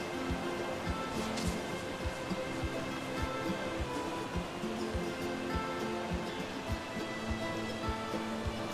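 Waterfall beside a base in Ark: Survival Evolved, a continuous rushing splash of falling water, steady and moderately close, with faint tonal game ambience and low thumps mixed in and no talking.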